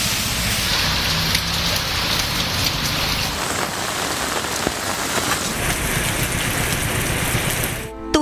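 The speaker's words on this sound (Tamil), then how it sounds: "காணாத பேய் மழை." Torrential downpour in the southern Tamil Nadu districts of Thoothukudi and Tirunelveli, a dense, steady roar of rain hammering surfaces, loud and unbroken throughout and ending abruptly at the very end.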